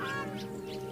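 Spur-winged geese call on the plains of Liuwa in Zambia, a steady, loud honking with nasal harmonic tones that carries through the whole second, close and without any talk.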